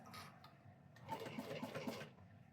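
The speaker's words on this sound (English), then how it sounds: "I have to really try to adjust my tension when I'm sewing lighter fabrics" A sewing machine stitching light fabric, with a short burst of rapid close mechanical whirring and clatter lasting about a second after a quieter start, with no talk.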